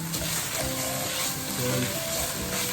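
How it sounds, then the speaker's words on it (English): Bacon frying and being stirred in a pan for a crustless quiche, an even, close sizzle with faint stirring movements underneath and no talking. "Back over here and back to the bacon, stir it up."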